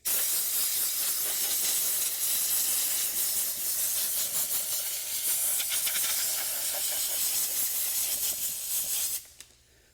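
Loud, steady high-pressure hiss of compressed air or a pressure washer blasting loose grit off rubber car floor mats, with spattering bursts throughout before cutting off abruptly near the end.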